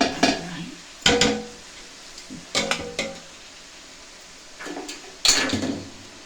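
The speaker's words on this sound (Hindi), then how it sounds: "अब ये चावल मैंने इस तरह से बॉईल करके छान लिए हैं, तो इनको डालेंगे" Boiled, drained rice tipped into a pot for sweet matanjan rice, heard as several separate scraping, clattering bursts of spoon and metal pot spaced a second or two apart, close and fairly loud with no talk.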